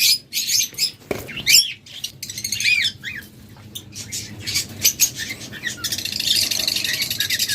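Caged pet birds, including lovebirds, budgerigars, cockatiels and doves, chirp and tweet in a steady, busy chorus at close range, with scattered squawks and a brief flutter of wings.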